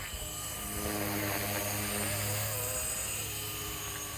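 Blade 230s Smart RC helicopter with upgraded aluminum swashplate flying nearby, its rotor giving a loud, steady buzzing drone with a humming whine that wavers slightly in pitch, no speech.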